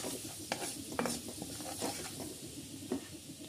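An amla pickle mixture cooks in a pan with a soft, low sizzle. Occasional light clinks and scrapes of a utensil stir through it.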